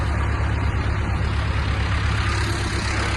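A T-40 AM tractor's diesel engine revving, a loud, steady low throbbing rumble with a rough mechanical texture, close by and unbroken for the whole stretch.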